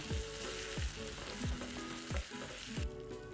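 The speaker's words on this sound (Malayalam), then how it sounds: "അപ്പോൾ കറിയിലേക്ക് താളിപ്പ് ഒഴിച്ചു കൊടുക്കുകയാണ്" Hot tempering with curry leaves poured into a Kerala-style okra curry, giving a steady loud sizzle with several sharp, spitting bursts repeating about every half-second, close up with no talking.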